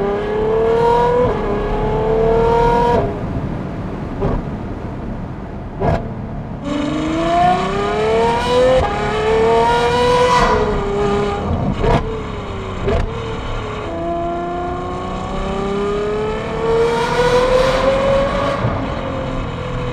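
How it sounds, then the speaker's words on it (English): Ferrari V12 with a Novitec straight-pipe exhaust and valves open, heard from the cabin while driving: a loud, continuous engine note rising and falling through several gear pulls, with sharp shift breaks between them. "let's go for a drive with the valves open so that you guys can hear what it sounds like from inside the car"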